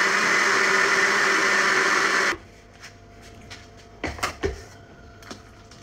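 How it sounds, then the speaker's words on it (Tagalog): A blender purees cooked carrots, potatoes, sweet potatoes and zucchini, a loud close whirring roar that runs for about two seconds then cuts off, followed by a few soft knocks and clatters. "I-blender ko nga lamang yung mga gulay, carrots, patatas, kamote at zucchini."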